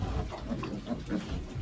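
A sow with young piglets grunts in a steady run of low, rough, close grunts in a village pig pen. No one speaks.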